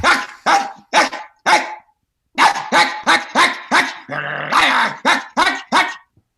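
A dog barks loudly and repeatedly in quick bursts, with a short pause, then a low growl rumbling between barks before more sharp barking.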